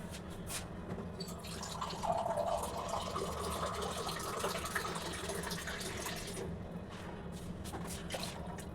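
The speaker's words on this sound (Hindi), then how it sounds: "बहुत सारा पानी डाल दिए, मोर देन छोले" Water pouring steadily into a pot of chickpeas being readied for pressure cooking, a continuous mid-level gushing and trickling stream lasting several seconds, with no talk over it.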